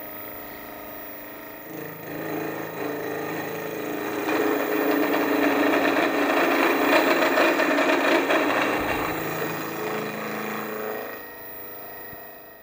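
A shaper fitted with a milling head runs through a light 0.5 mil finishing cut, a steady whirring machine drone that swells in the middle of the pass and eases off toward the end, with no talk.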